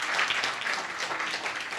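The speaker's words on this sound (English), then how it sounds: "Please give him a round of applause." Audience clapping at a book launch event, a dense, even round of applause at moderate distance that carries on for a couple of seconds with no voices.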